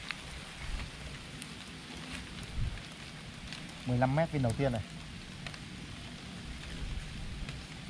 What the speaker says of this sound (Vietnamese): mưa gió quá như vậy